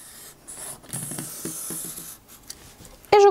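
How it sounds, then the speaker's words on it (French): A pencil draws a straight line along a ruler on fabric, a steady close scratchy rub lasting a couple of seconds, followed by a brief louder knock at the end. "je trace à la règle pour avoir quelque chose de droit"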